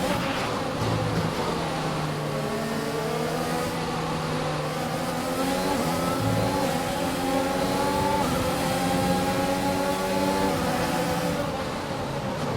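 A Formula 1 race car engine in the F1 2021 video game, screaming loudly and continuously as it revs up through a series of gear changes with rising and falling pitch, under a brief spoken commentary.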